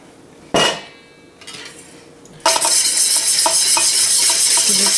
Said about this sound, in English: we're just going to whisk this up